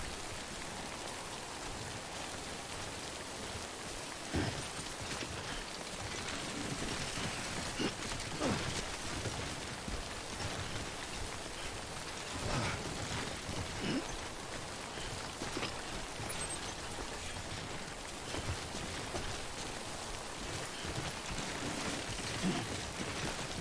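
Rain falls steadily in the video game Death Stranding, a soft continuous hiss of drops with scattered small spatters, fairly quiet throughout with no voices.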